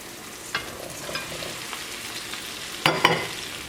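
Fried chicken sizzles steadily in a pan while Kerala chicken roast is being made, with a few sharp spoon scrapes and knocks near the end as it is stirred; no one speaks.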